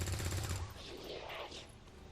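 Gunfire from a soldier's weapon in the XCOM Long War 2 strategy game, a loud burst of shots at the start, then fading into a softer whooshing game effect.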